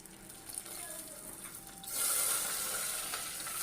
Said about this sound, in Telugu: చూడండి, తిరగమాత కాలింది కదా, ఉల్లిపాయ, పచ్చిమిరకాయ, అలాగే ములక్కాయ ముక్కలు కూడా వేశాను